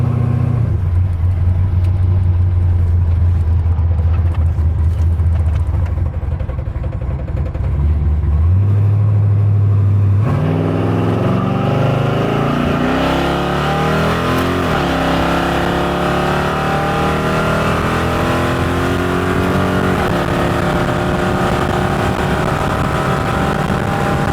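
Chevy S10 pickup truck accelerating hard on a quarter-mile drag run, heard from inside: a loud engine idles and burbles, then roars as it launches and climbs through the gears with rising pitch and shift breaks, close and alone.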